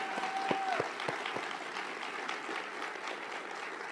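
Audience applause at a mayor's State of the City address, a steady wash of clapping from a seated crowd lasting several seconds at moderate level, with a brief tonal beep near the start.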